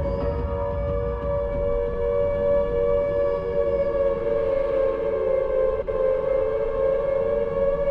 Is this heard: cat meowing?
no